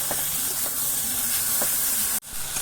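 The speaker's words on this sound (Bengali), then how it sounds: "এবার বাটা মশলা দিয়ে দিচ্ছি দিয়ে একটু কষে নেবো" Ground paste of ginger, garlic, green and dried chillies fried in a pan for yogurt chicken, a steady loud hiss with a few faint clinks, cutting off abruptly near the end.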